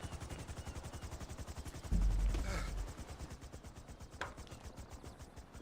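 Rapid game gunfire, likely from GTA, rattling as a steady automatic stream of shots with a louder burst near the middle, some distant and some close, with no speech over it.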